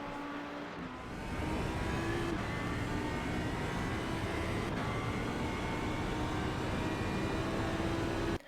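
Audi GT3 EVO II race car in iRacing at Spa-Francorchamps, its engine droning steadily and loud at high revs after a brief lower start, with no voices.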